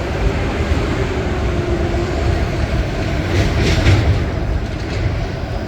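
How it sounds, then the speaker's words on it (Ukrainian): A Toronto streetcar passing close by, a loud continuous rolling rumble with rail clatter that swells slightly toward the end, no speech. "в нас залишились трамваї і трамвай ще зараз я вам покажу"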